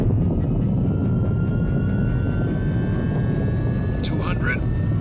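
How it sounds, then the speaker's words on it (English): A spaceship liftoff effect from an old-time radio drama: a loud, steady, broadband engine roar with a slowly rising whine layered on top, ending in a few brief high chirps. No voices are heard. "Then prepare for liftoff."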